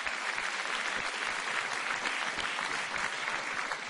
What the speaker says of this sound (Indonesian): Kita berikan tepuk tangan untuk Presiden SBY.